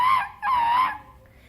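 A child imitates a monkey with two quick, loud hooting calls that rise and fall, each under half a second, followed by quiet.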